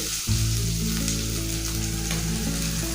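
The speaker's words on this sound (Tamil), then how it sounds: "வெங்காயம் இந்த அளவுக்கு வதங்கிடுச்சு." Onions sautéing in a pan for a cluster bean stir-fry, a continuous close sizzle that starts abruptly and holds steady throughout, with no voices.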